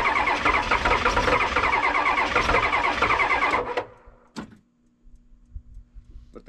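A diesel car engine cranks in the cold after its glow plugs have cycled, a loud continuous churning that cuts off abruptly, followed by a brief sharp knock and then a quiet low idle hum.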